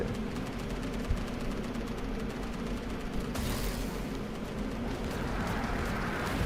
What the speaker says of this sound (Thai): เยี่ยมปืนกลนะฮะ